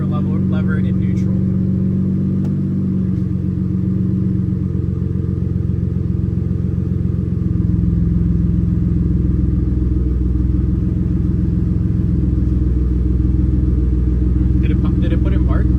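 A BMW F80 M3 engine idles in a steady, deep rumble throughout a dual-clutch transmission re-learn. The loud, close drone holds nearly constant, and faint voices are heard briefly over it.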